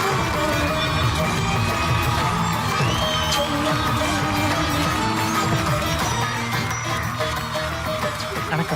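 A studio audience cheers and claps as contestants walk onto a Tamil game show stage, a dense, sustained roar of crowd noise with whoops, and voices mixed in throughout.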